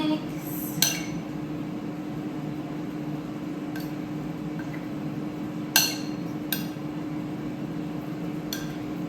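Black beans and corn stirred together in a bowl, with a few sharp, sporadic utensil clinks against the dish over a steady background hum, close by and with no talking.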